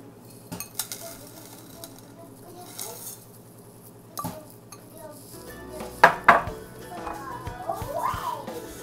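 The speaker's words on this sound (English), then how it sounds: "I'm adding in the vermicelli now" Vermicelli goes into softened butter in a metal pan, with a quiet sizzle under several sharp clinks and scrapes of a spoon against the pan, light and intermittent.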